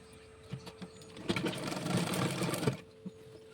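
A sewing machine runs in a steady whirring burst while stitching Punjabi dress pants, preceded and followed by a few short clicks and taps, close and fairly quiet with no talking.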